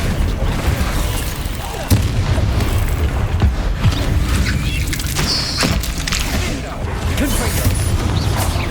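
A fiery Confringo blast spell cast in Hogwarts Legacy, a loud burst amid continuous game combat noise with booms and impacts.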